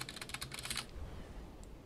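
Computer keyboard keys clatter in a quick, dense burst of typing during a gaming session, close and crisp for under a second before dropping away to quiet room noise.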